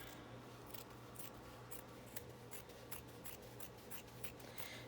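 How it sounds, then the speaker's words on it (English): Small fabric scissors snip through paper or fabric in a quick series of crisp cuts, quiet and close, with a low steady hum underneath. "Don't laugh at my little fabric scissors."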